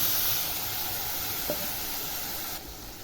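Mixed sprouts hit a pan of frying tomato masala with a steady hissing sizzle, a brief clatter midway as they go in, and the sizzle softening near the end.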